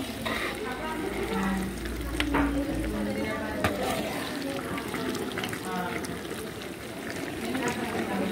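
Spices fry in oil for a garlic pickle made from 4 kg of garlic, giving a continuous hissing sizzle while people talk throughout.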